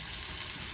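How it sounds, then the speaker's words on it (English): Peppers soften as they sauté in olive oil and butter, giving a steady, close, broadband sizzle that holds without a break and with no voices. "Sauteing these for about 10 minutes, and now they're getting to a point with the olive oil and the butter"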